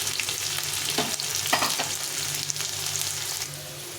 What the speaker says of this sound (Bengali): আলুটা লাল লাল করে ভেজে নিয়েছি সুন্দরভাবে আলুটাকে ভেজে নিতে হবে